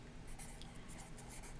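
A marker writes on a board during a math lesson, making steady, close, scratchy strokes with short pauses.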